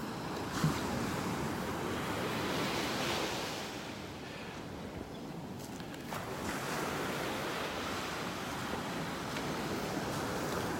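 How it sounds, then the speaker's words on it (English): Ocean waves wash onto a beach in North Naples, Florida, a steady surf roar with a little wind buffeting the microphone, slightly easing midway before building again; no one speaks. "I'm going to start my walk down the beach here."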